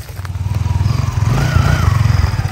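A motorcycle engine idles close by with a fast, steady, throbbing putter, loud and continuous, with a slight rise in revs near the middle.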